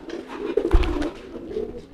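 A male pigeon near a female coos in low, throaty bursts, close and fairly loud, with soft rustling between calls.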